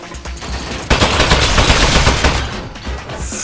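A video game machine gun turret opens fire after a short lead-in, a loud, dense burst of rapid automatic shots lasting about two and a half seconds before tailing off.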